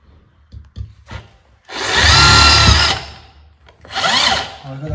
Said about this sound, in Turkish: İkisine de birer tane normal vida attıktan sonra delme yapacağım.